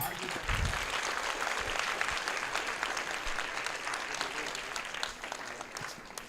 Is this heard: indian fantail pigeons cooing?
no